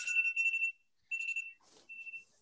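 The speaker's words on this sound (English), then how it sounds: "Oh, an alarm is going off." An indoor alarm going off in repeated shrill electronic beeping bursts, a run of rapid tones, a brief gap, then another burst, followed by a softer rustle and a final lone tone.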